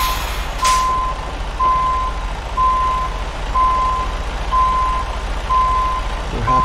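A truck in American Truck Simulator backs up a long trailer. A steady diesel drone runs under evenly spaced reversing beeps, about six in all, and a short hiss of air near the start.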